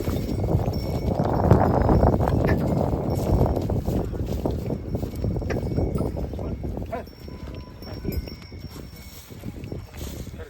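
Pair of Khillar bullocks being walked at a bullock fair, hooves clopping in an irregular rhythm over steady outdoor background noise, louder at first and then fading somewhat.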